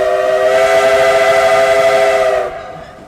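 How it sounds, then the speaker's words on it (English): A loud, sustained steam train whistle, a rich chord-like blast held for over two seconds before cutting off and fading. "I love to hear that whistle go by."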